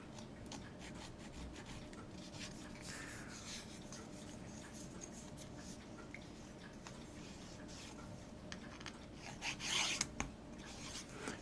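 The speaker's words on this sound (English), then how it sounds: "Get Chris's file here and just take that down just a little bit." A rasping file scrapes steadily in short strokes up close on a model ship part, with a louder burst of scraping near the end.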